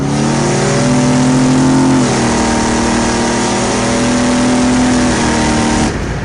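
A loud, rumbling cammed Chevrolet Silverado with a 6.0 engine, 4L80 transmission and 7875 turbo revs and holds at high RPM with a deep, rough exhaust note through a couple of mufflers, steady throughout before easing off near the end.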